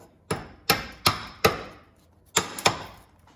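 A hammer strikes plasma-cut steel, knocking slag off the cut edge in sharp metallic smacks: four quick hits, a short pause, then two more, close and alone.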